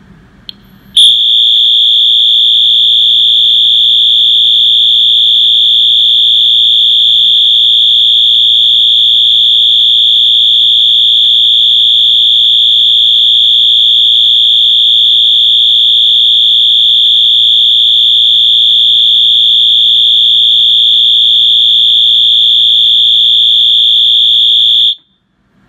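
A Wheelock AS-241575 fire alarm set to continuous tone at medium volume sounds one steady, piercing high-pitched tone nonstop for about 24 seconds, loud and close, then cuts off abruptly.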